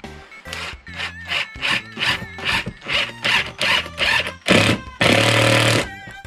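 A handsaw cuts wood during a camper-van build, making about ten rhythmic rasping back-and-forth strokes up close, ending in a longer, harsher burst.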